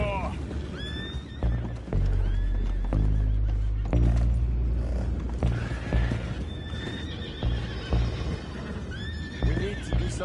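Horses in Red Dead Redemption II whinny and neigh repeatedly amid clip-clopping hooves, with game music underneath and characters talking over much of it.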